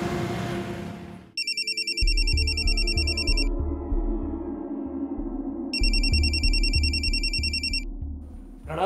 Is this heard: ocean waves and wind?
no